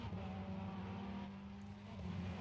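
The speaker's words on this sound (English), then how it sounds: "amazing looking GT Evo, the GT3 Evo Ferrari." A Ferrari GT3 Evo race car engine drones in a racing video game during qualifying at Zolder, Belgium, a steady low mechanical hum held at an even level throughout, with no voices.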